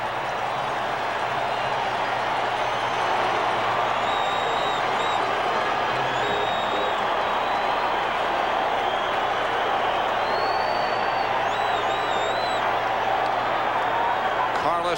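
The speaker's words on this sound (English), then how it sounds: "And the crowd is back on their feet." Large stadium crowd at a Redskins versus Broncos football game roaring after a Broncos touchdown, a dense, steady wall of cheering and clapping with scattered whistles and shouts, sustained at full loudness throughout.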